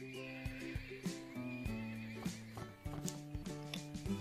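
Horses in the Wildlife Park 2 game neighing and whinnying repeatedly, several overlapping calls over a rhythmic clip-clop of hooves, close and fairly loud with no talking.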